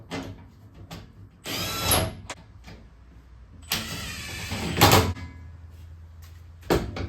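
Power tool whirring in short bursts while tightening wheelbarrow wheel bracket bolts after replacing a flat tire's inner tube, close by, separated by quiet gaps with a few small knocks.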